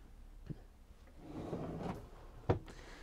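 A large storage drawer under the rear bed of a 2022 Tessoro 463 camper van being pulled open: a soft sliding rumble in the middle, framed by sharp knocks, with a loud thud near the end.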